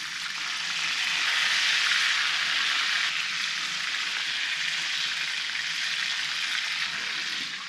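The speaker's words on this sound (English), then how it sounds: "our burgers are cooking and they're looking really good" Burgers sizzle in bacon grease on a cooktop at an off-grid mountain cabin, a steady, bright, close frying hiss that holds evenly throughout with no voices.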